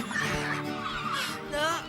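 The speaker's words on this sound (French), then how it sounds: "Je n'ai jamais vu autant de mouettes sur cette plage." Seagulls calling on a beach, a mix of honking, squawking bird cries, fairly close, overlapping in an animated scene.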